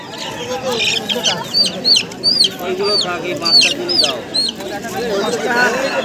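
Local chicks and hens cluck and cheep in repeated short bursts at a village poultry market in Nadia, close and fairly loud, with people talking beneath the birds.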